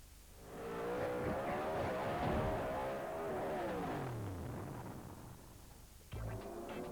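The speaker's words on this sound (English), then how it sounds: "Race 2, the Porsche GT3 Cup Challenge continues from Morgan Park Raceway" Porsche GT3 Cup race cars roar loudly past at Morgan Park Raceway, engines rising and falling in pitch as they accelerate through, with a fresh burst of engine noise near the end.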